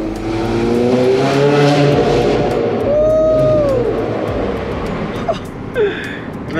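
A Ferrari 430 track car's engine revving hard as it moves, a loud high-pitched wail rising and falling across several seconds before fading, with light sounds near the end.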